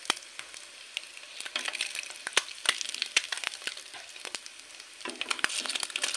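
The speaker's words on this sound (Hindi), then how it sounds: "अब हमारा अंडा हो रहा है फ्राई।" An egg frying in hot oil sizzles steadily, with sharp crackles and pops bursting through again and again, close and fairly loud, with no voices.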